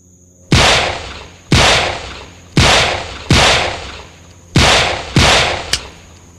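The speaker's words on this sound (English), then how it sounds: "Colt Detective Special, Gen 1, firing." A first-generation Colt Detective Special revolver, a .38 Special, fires six loud sharp shots at uneven intervals of roughly a second. Each shot cracks close and hard with a short decaying tail.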